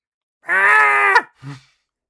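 A person imitates a goat with their voice: one long, wavering, nasal bleat, close and loud, followed by a short grunt-like second call.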